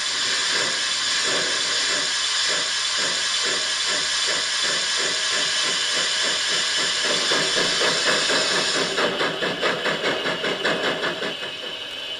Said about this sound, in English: just the injector shutting off